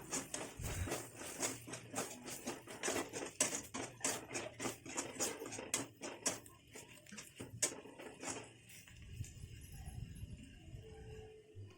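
Rapid scraping and clinking of a spoon against a pan, stirring a thick turkey berry curry close by, with a brief pause and lower shuffling near the end.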